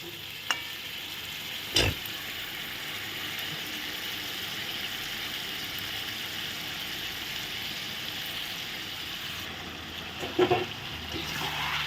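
Mixed vegetables for a vegetarian five-vegetable dish being stirred in a pan after the lid comes off, with a steady soft sizzle throughout and a few sharp utensil knocks near the start and end.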